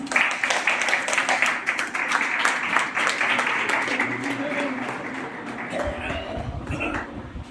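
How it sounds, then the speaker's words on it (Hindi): An audience at a community celebration gives sustained applause, a steady wash of many hands clapping that slowly thins out, with voices chattering underneath. "तालियां दे प्लीज।"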